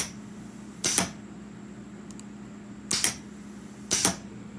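Three sharp mechanical clicks, each a quick double snap, come from a network-controlled trigger button firing a pneumatic cylinder, spaced about a second or two apart against a low steady hum, with a faint tick between them.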